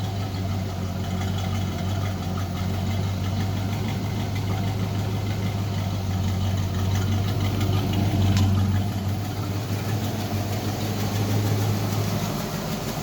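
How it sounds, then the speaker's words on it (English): Ford 302 V8 in a Lincoln Mark VII LSC with a Foxbody Mustang H-pipe exhaust idles steadily, a close, loud, low rumble holding even throughout with no revving. "maybe rev it up a little bit, see how it sounds"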